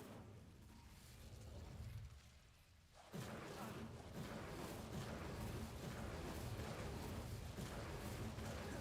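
Incendio fire spell cast in a Harry Potter video game, a sudden whooshing burst that flares into a steady roaring crackle of flames, fairly loud and sustained.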